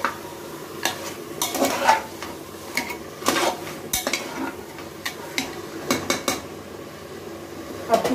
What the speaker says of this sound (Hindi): अब इसके अंदर हम लोग जो मटन है उसको हम लोग डाल देंगे और अच्छे से इसको अदरक लहसुन और प्याज के साथ मिला लेंगे